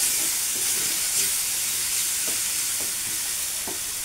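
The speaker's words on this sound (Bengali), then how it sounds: "এটা দিয়ে আমি ভালো করে নেড়ে নেব।" Jackfruit cutlet mixture with sugar and sesame seeds being stirred in a pan, a steady hiss of frying with soft scraping strokes and faint knocks of the spoon throughout.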